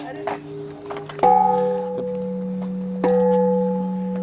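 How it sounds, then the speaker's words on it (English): A temple gong in Mae Hong Son, Thailand, is struck twice, each hit a loud close clang with long ringing tones that hang and overlap, following a softer earlier tone, with people talking briefly around it. "Marion's gonna bang a gong."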